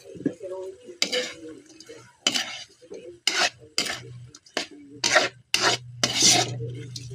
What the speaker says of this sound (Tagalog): So, haluin lang natin